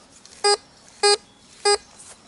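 A Tesoro DeLeon metal detector sounds three short, evenly spaced high beeps as it sweeps over a nickel buried six inches deep, crisp and clear over a faint background hiss.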